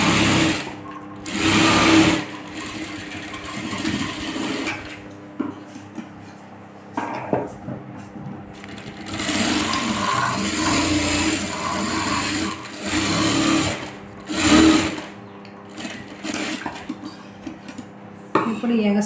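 Sewing machine stitching fabric in straight lines, running in several bursts with brief pauses between them, loud and close, with some light clinking in the background.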